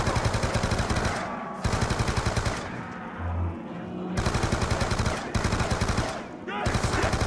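Bursts of rapid light machine gun fire in Call of Duty Black Ops 2 Zombies on the Town map, loud and close, several sustained strings separated by short pauses with game sounds between.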